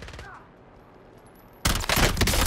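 Sudden loud burst of video game gunfire cuts in after a quiet stretch, dense and sustained to the end, with a brief voice heard at the start.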